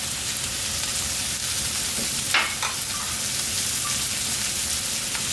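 Chopped onion frying in a pan of rendered mutton fat with no oil added, giving a dense, steady sizzle with a brief stir-like scrape partway through, close and without talk.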